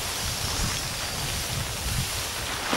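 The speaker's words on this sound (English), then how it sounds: "Sorry about all the wind, and the wind's definitely blowing this thing around." Strong wind gusts buffeting an Under Ground Quilt Co Winter Dream 11 tarp shelter outdoors, with rumbling microphone wind noise that surges and eases in uneven pulses, loud and close throughout.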